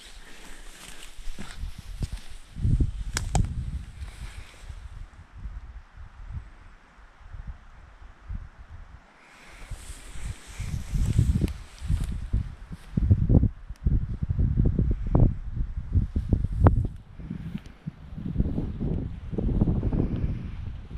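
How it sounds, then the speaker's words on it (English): Gusts of wind buffet and rumble against the microphone, rising and falling in waves with rustling mixed in, fairly loud throughout. "Bit windy, but it's not too bad."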